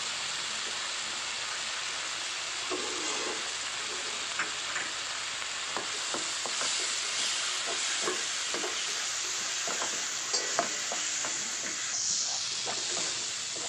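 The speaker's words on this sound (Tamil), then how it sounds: "இப்போ வந்து நான் குழம்பு தூளும் போட்டு சேர்த்து இதோட வதக்கிக்கிறேன்" Steady sizzling of a tomato masala with curry powder sautéing in a pan for Chennai-style vada curry, with a spoon scraping and stirring now and then, close and continuous, no talking.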